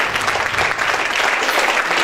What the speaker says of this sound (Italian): le facciamo un applauso